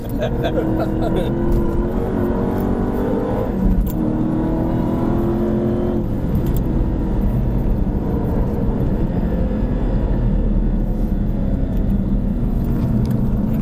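SRT street cars run laps on the California Speedway track in Fontana, giving a loud, continuous engine roar with rising revs and passing rumble, while people talk close by throughout.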